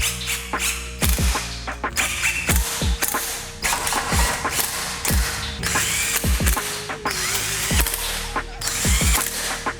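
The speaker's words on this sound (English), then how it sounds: "I'm going to go ahead and cinch these down with an impact" An impact wrench rattles in repeated short bursts while tightening exhaust bolts on a 2012 Subaru Forester, the rapid hammering clatter sounding close and loud with brief pauses between bolts.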